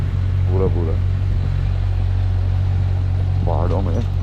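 A Kawasaki Ninja 1000 motorcycle hums steadily at low revs while riding through mountain roads around Landour, its drone continuous beneath someone talking briefly at the start and end.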